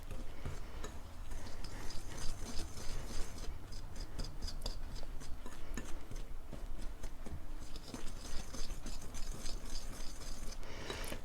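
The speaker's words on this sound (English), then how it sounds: "if I can find it, I'll just use a whisk" A whisk clicking and scraping steadily against a bowl while mixing dry keto bread ingredients including xylitol and erythritol, a fairly quiet, busy rhythmic ticking that runs throughout.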